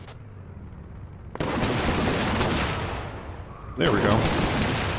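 High-explosive rounds fire in the military shooter game Squad, with sharp booming impacts and rumbling blasts in quick succession and a brief spoken voice over the gunfire.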